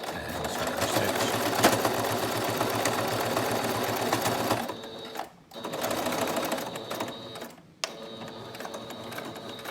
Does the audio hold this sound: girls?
no